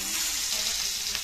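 Fish frying in oil on a tava in a home kitchen, a steady close sizzle with soft crackle throughout a brief moment, no voices.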